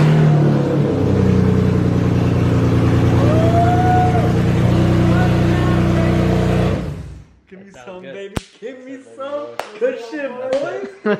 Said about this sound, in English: you saw us get the car finally started